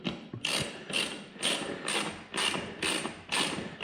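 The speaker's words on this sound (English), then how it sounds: "you want to take a 5mm Allen, snug those up" A 5mm Allen wrench, apparently on a ratchet, snugs bolts on a 2019 Indian Springfield sissybar package with rhythmic clicking strokes, about seven regular bursts close by.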